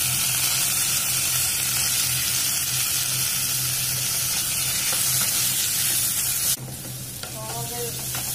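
Chopped tomato, ginger and garlic fry with onions in a pan, giving a loud, continuous sizzle, then a sharper drop and spatter near the end as the ingredients go in, with no voices.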